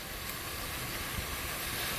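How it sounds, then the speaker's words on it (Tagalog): A steady, dense bubbling hiss of liquid at a rolling boil in a pot, continuous and fairly close, with no talking. "nakikita nyo po, kumukulo na po siya."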